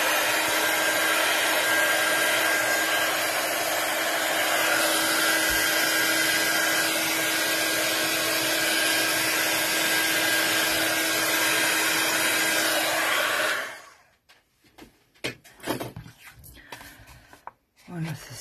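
A loud, steady whoosh of a heat gun drying a watercolour card blows continuously for most of the time, then cuts off, leaving scattered handling noises and faint clatter.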